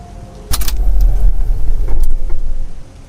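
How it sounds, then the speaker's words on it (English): A car engine sputters and falters in close, loud, uneven bursts with a low rumble, then tails off, with no talking. "the car's engine sputtered."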